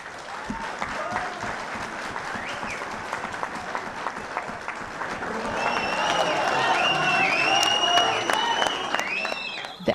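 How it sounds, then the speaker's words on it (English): A Gaza crowd bursts into joyous cheering and sustained applause at a Hamas leader's unity agreement announcement, with clapping throughout and shrill high calls rising over the din in the second half. "The announcement made by the Gaza-based Hamas leader was met with a joyous cheer"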